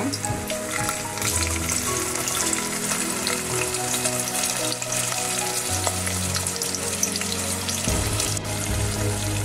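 Onions fry in hot oil in a pan, a continuous loud sizzle with stirring scrapes and a low hum running underneath.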